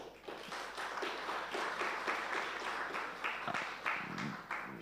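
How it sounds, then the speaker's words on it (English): An audience at a forum on refugee access to labour markets breaks into sustained applause, a dense wash of many hands clapping steadily for several seconds, heard from some distance in a large room. "they deserve the heartiest round of applause"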